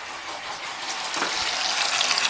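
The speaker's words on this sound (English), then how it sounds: "now with the drain plug removed, the fluid's all coming out." Coolant pouring out of the radiator drain plug on a Volvo 850 during a thermostat repair and coolant flush, a steady, fairly loud hissing gush of liquid that swells slightly, close by with no talk.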